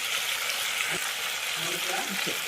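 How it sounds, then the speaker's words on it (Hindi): Water poured into a pan of fried chicken and mutton in a home kitchen, giving a steady broadband sizzle and hiss throughout with faint stirring sounds underneath. "अब मैं इसमें डाल रही हूँ पानी।"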